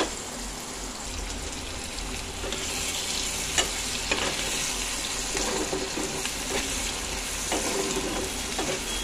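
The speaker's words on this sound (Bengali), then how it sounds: "ভালো করে ভেজে নিলাম" Food sizzling steadily in a pan for rajma chawal, a continuous frying hiss with occasional scrapes and taps of a stirring spoon, close and moderately loud, no talk.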